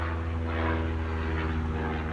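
A propeller airplane drones steadily overhead, a continuous low engine hum with strong low harmonics that holds at an even level throughout, with no voices present.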